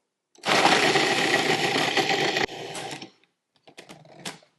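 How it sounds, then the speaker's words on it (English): Oreo cookies being crushed into fine crumbs, likely in a food processor, a loud continuous grinding whir for about two seconds that drops in level, then stops, followed by a few faint short rattles. "And then we'll crush the cookies until nice and fine crumbs."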